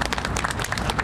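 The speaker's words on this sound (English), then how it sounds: "Please give a round of applause." Audience at a school building topping-off ceremony claps in dense, continuous applause, loud and close throughout.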